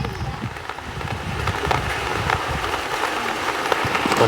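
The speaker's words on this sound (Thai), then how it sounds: "ฝนตกพี่น้องเอ้ย" Steady rain falls in a dense, even hiss of drops on surfaces, continuous and fairly loud throughout with no voices.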